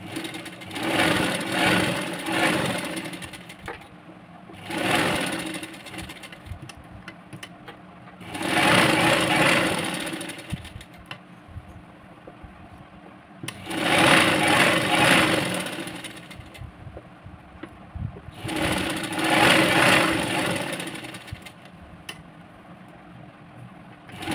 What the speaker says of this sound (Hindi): इस तरह से मैं इसको सिलाई टिप मार के ले रही हूँ